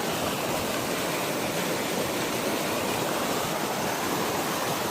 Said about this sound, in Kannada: ಹೇಮಾವತಿ ನಾಲೆ ನೋಡಿ ಎಲ್ಲಿವರೆಗೂ ಹರಿತೈತೆ